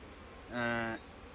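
A single honeybee at a bee farm in a flowering lychee field buzzes briefly past, a short faint drone rising and fading over quiet outdoor background.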